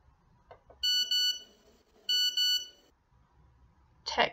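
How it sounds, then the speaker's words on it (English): A text message notification alert sounds as two bright, sustained electronic tone bursts, each with a double pulse, followed by a short rattling buzz at the end, close and clear against a quiet room. "Text message."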